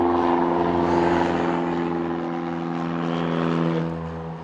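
A propeller plane's engine drones steadily nearby at a small aerodrome at Goodwood, a loud buzzing hum with rich harmonics that fades slightly toward the end.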